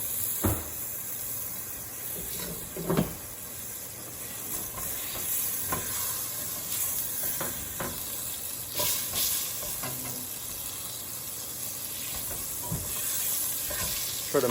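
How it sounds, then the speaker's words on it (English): Two tablespoons of butter melt and sizzle in a pan, giving a steady close hiss broken by scattered pops and spoon scrapes as it is stirred around. "Try to mix this around, and then while the butter is melting"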